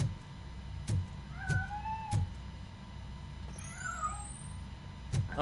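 A cat in the RoboCop video game gives a few clear, wavering meows against a low game hum and a steady rhythmic thudding, fairly close and moderately loud.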